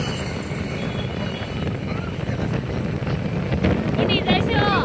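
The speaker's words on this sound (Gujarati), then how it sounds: "તમને બહુ પવન લાગે છો" Strong wind buffets a microphone outdoors, a loud, steady low roar that swells slightly toward the end, with faint voices under it.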